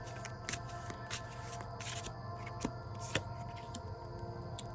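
A tarot deck is shuffled by hand at close range, a soft continuous riffle of cards with occasional sharper taps and snaps as the cards are squared, over a steady background hum.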